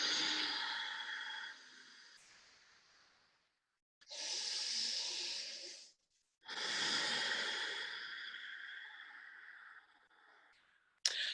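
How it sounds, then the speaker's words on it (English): Slow guided breaths in and out through the nose, long airy exhalations in three separate bursts with quiet gaps between, close and fairly loud, no talking. "Breathing in and out through the nose when we finish."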